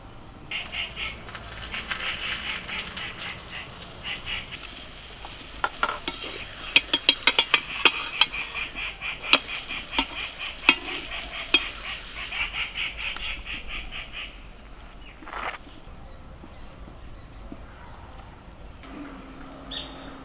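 Aloo parathas fry in a pan with a steady sizzle, broken by a run of sharp clicks and scraping stirs; insect-like chirping and distant bird calls sit in the background, and no one speaks.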